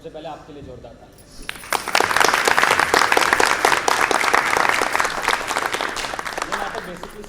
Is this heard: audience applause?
yes